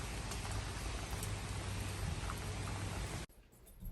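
Steady rain falls outdoors on a wet day, a dense, even hiss that holds for several seconds and then drops off abruptly near the end, leaving quieter background.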